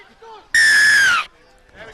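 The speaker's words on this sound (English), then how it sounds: "The whistle now." A referee's whistle at a Premier Grade club rugby match between Cottesloe and UWA gives one loud, sustained blast of about three-quarters of a second, rising above a low murmur of crowd and commentary.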